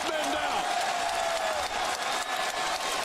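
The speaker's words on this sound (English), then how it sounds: "And listen to this crowd." A wrestling crowd in Newark, New Jersey roars with sustained cheering and applause throughout, loud and dense, with excited voices mixed into the constant wash of noise.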